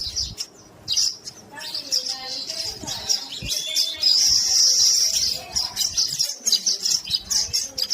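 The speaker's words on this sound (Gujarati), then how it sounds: "પોતપોતાના માળા બધા બનાવવામાં મશગુલ બની ગયું છે પીળી ચકલીઓ" Many yellow weaver birds chirp and twitter busily at once at their nests, a dense high-pitched chatter, fairly near, with a few soft knocks underneath.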